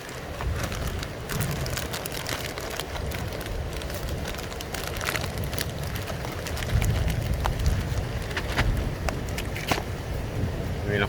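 Steady rain pours during a thunderstorm beside a river, a dense constant hiss with scattered drops and crackles, while a voice talks faintly underneath.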